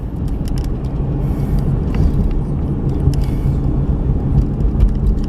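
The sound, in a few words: GMC Canyon V6 engine with 8-speed transmission while driving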